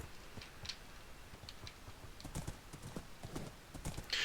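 A horse galloping through a forest in the Minecraft modpack GregTech New Horizons, its hoofbeats a steady, quick clip-clop at moderate volume with a brief burst of noise near the end.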